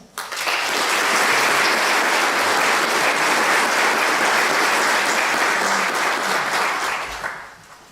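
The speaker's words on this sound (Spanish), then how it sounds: "le pido un fuerte aplauso" A large crowd at a forum on earthquake resilience in Chiapas claps loudly and continuously for several seconds, the applause swelling quickly and fading out at the end.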